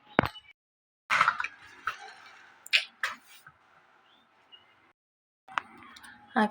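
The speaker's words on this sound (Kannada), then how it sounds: "ಸ್ವಲ್ಪ ಪಾತ್ರೆ ಇದೆ, ತೊಳ್ಕೊಂಬಿಡ್ತೀನಿ" Dishes being washed by hand in a home kitchen, with short bursts of clattering utensils and clinking pots separated by near-silent pauses.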